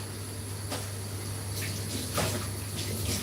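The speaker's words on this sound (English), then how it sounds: "So first of all, let me wash these up." Items being washed in water to rinse off preserving chemicals: soft splashes and trickles over a steady background hum, faint and fairly close, with no voices.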